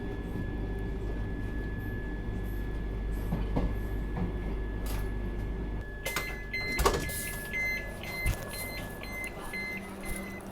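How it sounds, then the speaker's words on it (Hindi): A train pulls into Raebareli Junction railway station, a continuous low rumble and steady hum of rolling stock with a high tonal whine, clanks and squeals rising near the end as it slows. "फिलहाल अपनी ट्रेन पहुँच रही है रायबरेली जंक्शन रेलवे स्टेशन"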